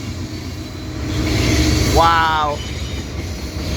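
Northbound Norfolk Southern freight train rumbling steadily past, a long horn blast swelling loud and near over the continuous rolling roar, with a person's brief exclamation.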